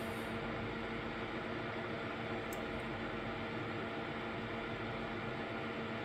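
Steady, loud whooshing of a Jiushark JF200 CPU cooler fan spinning at 100% speed, a constant broadband hiss with a faint tonal hum, close up.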